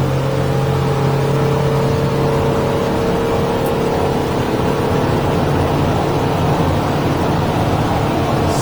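A Stabicraft 2050 Supercab boat cruising under a 2023 Yamaha F150 outboard produces a loud, steady engine drone with a constant tonal hum and rushing water noise, continuous and even throughout.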